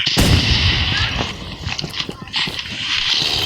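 Rapid sniper rifle shots in a Roblox Rivals match, a sharp blast at the start followed by several quicker cracks and thuds amid chaotic game noise.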